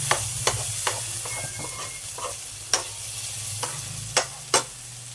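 Shrimp paste (alamang) sautéing in a pan, with a steady low sizzle and scattered sharp clinks and scrapes of a utensil stirring at irregular intervals, fairly close and with no talk.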